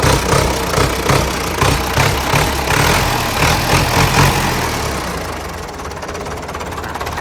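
A Ford 6600 tractor diesel engine revved in short repeated bursts, a loud close throbbing knock that rises and falls several times and then settles back to a steadier idle.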